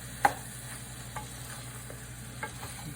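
Plant-based sausage browns in a pan with a quiet, steady sizzle, broken by a sharp scrape of stirring near the start and a few softer clicks afterward, with no talking.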